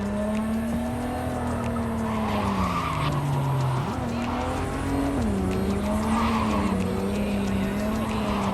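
Car tires skid and squeal continuously in Cyberpunk 2077 as a loose-handling car slides through corners, a steady engine drone underneath with pitch dips and swells, loud and close with no talk.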